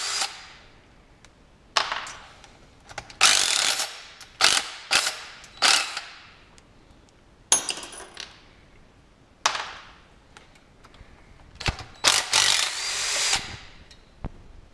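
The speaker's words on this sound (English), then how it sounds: "I recommend getting one of these drills." Power drill running in repeated short bursts as it backs bolts out of a Shovelhead motorcycle engine, with whirring spurts and ratcheting clicks between brief pauses, close and fairly loud with no talking.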